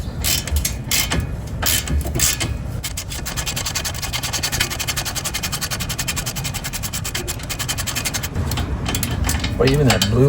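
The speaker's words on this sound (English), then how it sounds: "So we're going to take our brake caliper off." A ratchet works on a 17 mm brake caliper bolt on a 2020 Toyota Camry during CV axle replacement, producing a loud, rapid, continuous mechanical clicking and grinding close up, steady for several seconds.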